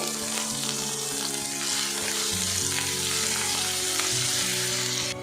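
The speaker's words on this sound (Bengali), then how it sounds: "এদিকে দেখুন, টমেটো ভাজতে ভাজতে কিন্তু খুব সুন্দরভাবে এটা গলে গেছে।" Chopped tomatoes fry in a pan with a loud, continuous sizzle that stays steady throughout, with no talking over it.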